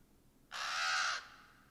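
A single harsh, raspy caw from a crow in the 1994 prison drama The Shawshank Redemption, loud and close, lasting under a second against a quiet backdrop.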